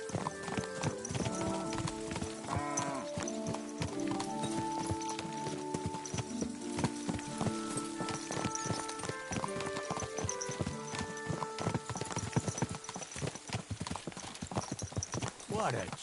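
Horse hooves clip-clop steadily as a rider travels in Kingdom Come Deliverance 2, a continuous walking rhythm with a brief whinny, heard under voices talking throughout.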